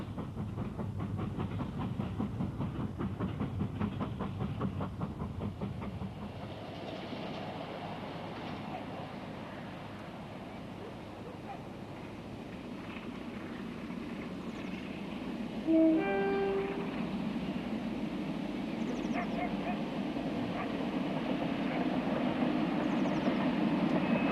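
An LMS 8F steam locomotive of the 1960s Pennine railways idles at the head of a queue, giving a steady low rumble and hiss that swells slightly, with a short tonal whistle-like note midway.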